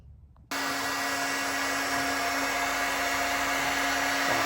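A portable Virutex edge bander switches on after a quiet moment and runs along a board edge, a loud continuous motor whine with a steady tone that holds level to the end.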